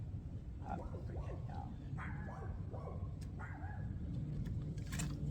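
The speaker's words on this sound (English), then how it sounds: "Y'all hear them dogs? Carrying on." Dogs barking outdoors in spring, a scatter of yips and barks at a distance, faint against steady background noise, carrying on for several seconds.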